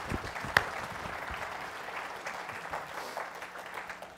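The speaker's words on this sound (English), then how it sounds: "Everybody want to clap for them." An audience breaks into applause during an interview, a steady wash of many clapping hands at moderate volume with one sharp louder clap near the start.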